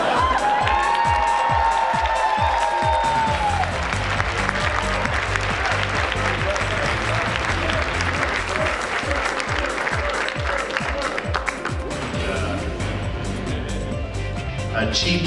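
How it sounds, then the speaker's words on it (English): A live audience at a stage event gives loud, sustained applause with cheering and whoops mixed in, dense and continuous for the whole stretch, with voices audible early on. "Big round of applause."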